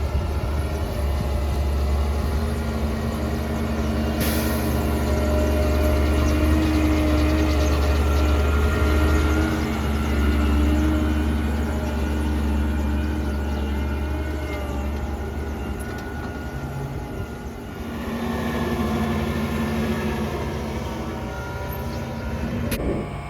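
A crawler tractor's engine labours through deep ploughing a metre down, giving a loud, continuous droning rumble with a steady low hum and a slight dip and recovery in strength partway through. No voices are heard.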